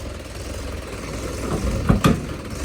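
A New Holland 5630 4x4 tractor engine idles with a steady low rumble, close by, and two brief knocks stand out near the end.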